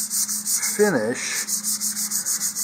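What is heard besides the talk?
lightly sanding a plastic model rocket nose cone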